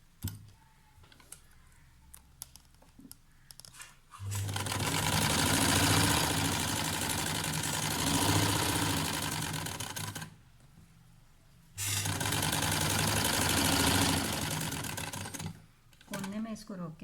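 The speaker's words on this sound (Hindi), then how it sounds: "इसके बाद अब हम सिलाई लगाएंगे और सिलाई इस किनारे के साथ साथ कपड़े पे लगेगी।" Sewing machine stitching along a fabric edge, two long bursts of fast, even, rattling motor hum separated by a pause, with soft handling clicks before and after and speech in between.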